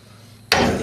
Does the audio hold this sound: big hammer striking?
yes